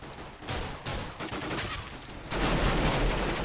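Rapid gunfire from a sniper-battle round of MineStrike, a Minecraft shooter mode, cracking out in dense bursts that swell louder near the end, with no talk over it.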